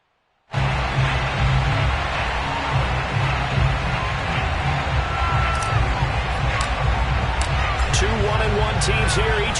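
Stadium crowd at a Washington Football Team home game against the Pittsburgh Steelers in Landover, Maryland: a loud, steady roar from a packed stadium, with thin whistles and shouts rising out of it later on.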